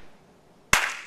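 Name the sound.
hands clapping during a line dance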